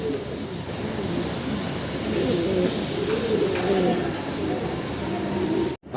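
Large Shoughking pigeons in Andalusian colouring coo in low repeated throaty calls at a pigeon sale, close and steady over background noise.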